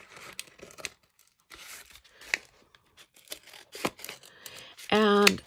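A paper mail envelope from Jacksonville, Florida is cut open with scissors, giving close, intermittent snips and tearing crinkles with short pauses between them, while a person speaks briefly near the end.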